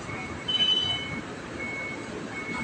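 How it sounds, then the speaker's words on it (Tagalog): A dump truck reverses at a ferry port at night, its backup alarm beeping faintly at a distance over a low, steady rumble of harbor and engine noise. "Dump truck."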